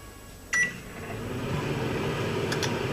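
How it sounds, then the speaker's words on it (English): Microwave oven heating potatoes: a brief beep, then a steady low hum of the running oven, with another pair of faint beeps later. "Place it in the microwave for 5 minutes."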